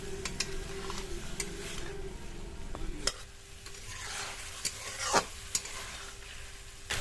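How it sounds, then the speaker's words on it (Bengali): Potato noodles stir-fried slowly over a low flame: a soft continuous sizzle with scraping stirs and a few crisp spatula knocks against the pan, up close and without talk. "নুডলসগুলো দেওয়ার পর এবার কিন্তু লো ফ্লেমে ধীরে ধীরে এইভাবে 2-3 মিনিট ভেজে নিতে হবে।"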